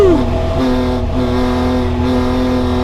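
A Chrysler Valiant E49 Charger with the Hemi six engine revs hard on a track, its pitch sweeping up in the first half second, then holding a loud, sustained high-rev howl.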